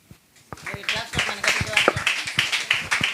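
Children clap along during a Sunday school lesson, a quick run of sharp hand claps that starts softly and gathers into a steady, fairly close rhythm, with no talking over it.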